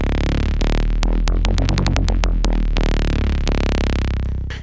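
A throaty, growling synth patch with distorted harmonics and a low-mid cut around 400 Hz, its tone swept upward by an LFO. It plays alone in a loud, steady run of repeated chopped notes that climb in brightness.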